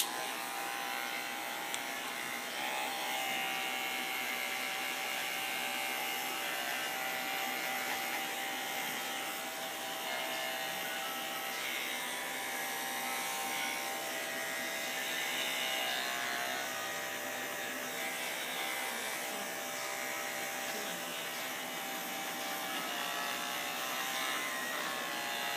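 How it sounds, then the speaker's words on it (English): An electric hair clipper buzzes continuously and close up while fading a number 1 bald fade haircut, a steady even drone lasting throughout with no talking. "use the corner of your clipper to take out little hairs here and there to really blend that fade in"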